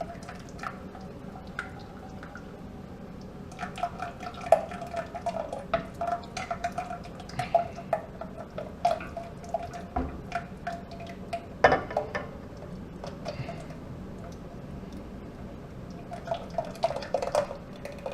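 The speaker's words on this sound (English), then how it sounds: "So just very slowly fold it in and stir, stir, stir. It's kind of splashy." Chocolate ice cream mixture being slowly folded and stirred in a bowl, with scattered wet drips, light splashes and clinks of utensil against the container over a steady low background, no talking.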